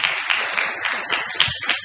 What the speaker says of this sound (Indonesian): Keren, tepuk tangan dong buat Mas Alen.